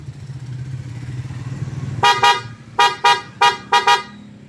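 A loud aftermarket horn on a Yamaha NMAX V1 scooter blasts six sharp, close honks in quick pairs after a stretch of steady low engine idle.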